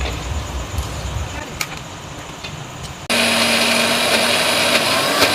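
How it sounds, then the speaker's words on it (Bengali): A mixer grinder starts up partway through and grinds soaked urad dal (biuli dal) with a loud, steady high-pitched whir, after a quieter stretch of kitchen handling noise. "এবার আমি বিউলির ডালটাকে আমি বেটে নেব।"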